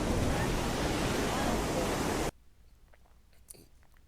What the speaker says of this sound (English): whenever the water hits it, it just makes these massive waves